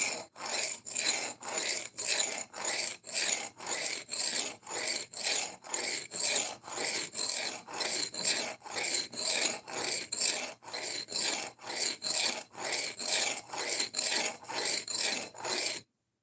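A knife blade scraped in steady back-and-forth strokes across a brick for sharpening, each rasping pass close and regular, repeating continuously without talk until a brief stop at the end.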